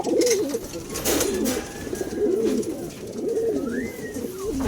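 A racing pigeon coos repeatedly in a low, throaty rolling rhythm, close by, with faint chirps from other birds in the background.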